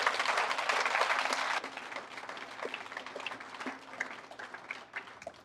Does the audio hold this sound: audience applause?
yes